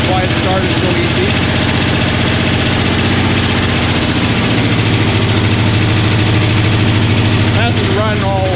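A 1969 Dodge Dart engine idles steadily after a fresh start with a primed carburetor, a loud, close, continuous low rumble with a faint knock, while a voice talks briefly near the end.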